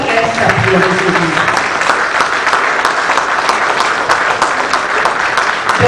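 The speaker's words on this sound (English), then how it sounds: "Please, let's give a resounding round of applause to each one of our guests up here this evening." An audience at an industrial silver conference session gives sustained, loud, dense applause to the speakers on stage, with a voice briefly over it at the start.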